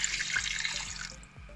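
About a cup of water pours steadily into a cooking pot of spiced corn curry, a close splashing gush that tapers off near the end.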